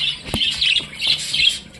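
Close by, a spangle rainbow budgerigar gives sharp squawks and chattering chirps in uneven bursts, one loud click standing out early.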